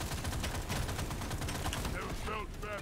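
Automatic turrets in Deep Rock Galactic Survivor fire rapid, steady bursts of gunfire, a dense crackling stream that continues loudly throughout, with brief chirping effects near the end.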